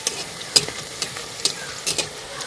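Kurkure made from cooked rice and potato fries in hot oil, a crackling sizzle broken by several sharp clicks and taps of a utensil against the pan, close and fairly loud with no talking.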